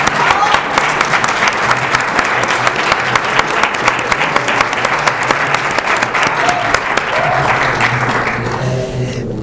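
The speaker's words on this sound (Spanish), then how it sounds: "le damos un fuerte aplauso a Pancho Hinojosa" An audience at the Guadalajara book fair applauds author Francisco "Pancho" Hinojosa, loud, dense and sustained clapping that continues for several seconds before easing off near the end.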